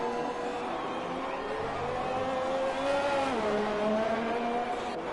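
Race car engine on a hot lap at the Vietnam circuit in an F1 racing game, a loud high-pitched whine held steadily, dipping briefly before climbing again as the car brakes and accelerates; no talk.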